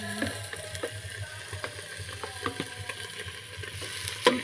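Chopped onion hits a little oil for a salmon sinigang sauté and fries with a light, crackly sizzle. Small pops and clicks come through at close range, and nobody speaks.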